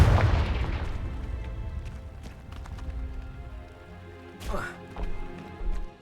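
Confringo fire spell cast in Hogwarts Legacy: a loud, rumbling blast at the start that fades into a low roar, followed later by a few sharper whooshing bursts.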